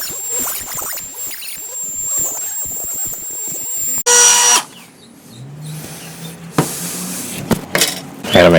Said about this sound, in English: I'm just going to cut with my Dremel.